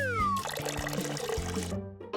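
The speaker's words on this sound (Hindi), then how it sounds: "मैं पाउडर्ड मिल्क लेकर आई हूँ। बस इसे पानी के साथ मिलाना है।" In a cartoon, water is poured to mix powdered milk, a loud gurgling liquid pour lasting most of two seconds with a rising glug before it cuts off abruptly, then a brief tonal blip.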